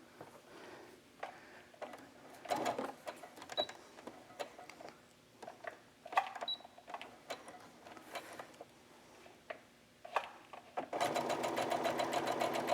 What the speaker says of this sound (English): So using a 1/4 inch seam allowance, I'm going to just sew this right on.